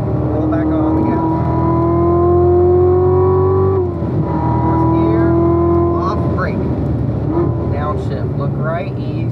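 A Corvette C7 Z06 engine on a race track, loud and close, pitch climbing steadily, dropping off on a lift, then climbing again, with an instructor talking over it.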